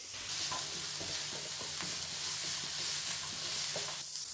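Peeled almonds and spices roasting in a pan for a Mughlai chicken masala, a continuous close sizzle with repeated scraping stirs of a spoon, no voices.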